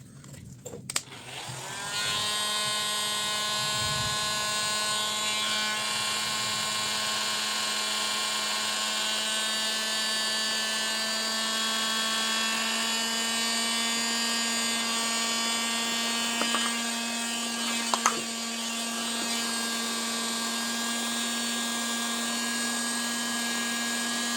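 A household hair dryer, repaired after overheating, switches on and runs at full power with a steady, high-pitched motor whine and rushing air. It is close and constant, with a few brief clicks partway through.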